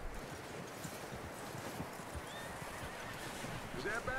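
A horse in the video game Red Dead Redemption 2: a steady wash of hooves and wind-like noise, with a clear, close whinny rising near the end.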